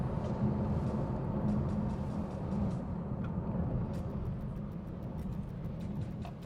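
A 2023 Lexus LC500 or Infiniti Q60 Red Sport accelerates in a drag race, its engine a continuous low roar with road rumble, heard at moderate distance without talk.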